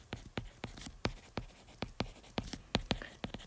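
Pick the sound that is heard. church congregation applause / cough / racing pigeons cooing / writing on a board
writing on a board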